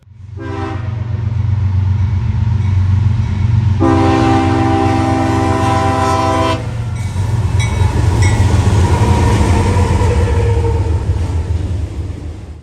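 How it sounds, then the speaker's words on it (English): Eastbound I-168 freight train of auto racks and intermodal cars on the Willard subdivision at Attica Junction, Ohio, sounding loud sustained horn blasts over a heavy rumble as it approaches the diamond crossing, with no talk. "we witness eastbound I-168 on the Willard sub, preparing to slam the diamond"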